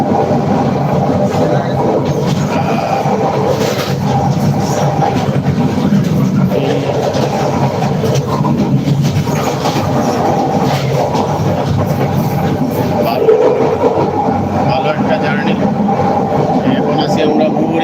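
Parjatak Express passenger train running past Mouriganj station on the Dhaka to Cox's Bazar line, heard from inside as a loud, steady rumble with faint rattling throughout.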